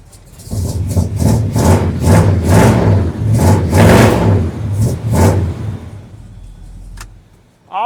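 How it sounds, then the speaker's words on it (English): A dually pickup truck with a glass pack exhaust revs loudly in a series of rhythmic blips, each rise in the engine's rasp falling back toward idle before a short sharp pop at the end, close by and alone. "that exhaust note, it ain't too bad. It's, got a glass pack sound."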